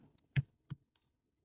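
A few separate keystrokes on a computer keyboard, quiet and close, two distinct clicks spaced apart followed by a fainter tap, with silence between them.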